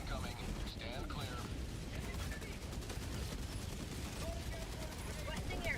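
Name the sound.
orbital barrage explosions in video game Helldivers 2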